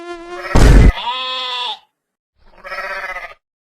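A goat in a Hindi cartoon bleats in two loud, wavering calls separated by a short silence, the first preceded by a sharp burst of noise, with no talking.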